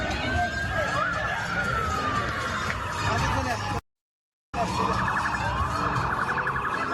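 Wailing police sirens rising and falling near the Bellagio Fountains in Las Vegas, with the steady whine of a second siren and a busy street background, cut by a brief silence midway.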